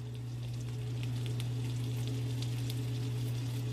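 Beef rosettes searing on a grill, giving a soft continuous sizzle with scattered small pops over a strong low steady hum, close by and without talk.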